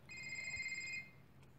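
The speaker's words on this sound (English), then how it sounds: "Receive information from Carlos on the phone" A phone rings in the Desperate Housewives mobile video game, a single bright electronic ringtone burst lasting about a second, clear and alone over low background hum.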